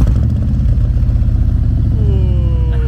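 A motorcycle engine idles loud and close with a steady chugging rumble, then revs up briefly near the end.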